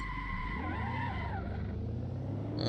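A race car in the Assetto Corsa racing game spins out at a chicane, tyres squealing in long wavering tones over a steady engine drone for nearly three seconds, loud and close.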